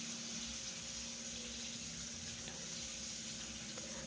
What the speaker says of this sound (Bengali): এইভাবে ভালো করে সিমটাকে ভেজে নিতে হবে।